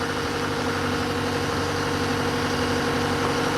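A boat engine, a newly fitted taller unit, idles steadily at close range, a continuous low mechanical drone with a constant hum and no talk over it.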